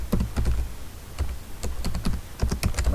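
Computer keyboard typing of commands while configuring network switch interfaces, with irregular bursts of clicky keystrokes close by and fairly loud, no talking.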